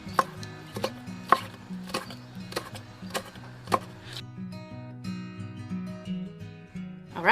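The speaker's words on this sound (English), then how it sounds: "This clear noodle out small, cut them out small." A knife chops clear glass noodles into small pieces on a cutting board in a Vietnamese home kitchen, with a run of sharp, evenly spaced chops that stop partway through, leaving a steady tonal hum.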